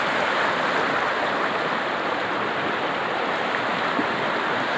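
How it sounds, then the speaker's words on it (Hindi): Floodwater from a monster flash flood pours through a deep spot in a village stream, a loud, dense and continuous rushing roar that holds unbroken throughout. "ये जगह से जिस जगह से पानी बह रहा है ये काफ़ी गहरी जगह है"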